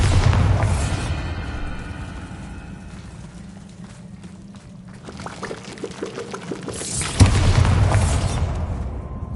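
Bombarda spell explosions in the Hogwarts Legacy video game: two loud, booming blasts with crackling debris, one at the start and another near the end, separated by a quieter rumbling stretch.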